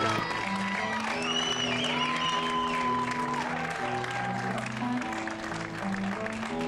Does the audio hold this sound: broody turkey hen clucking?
no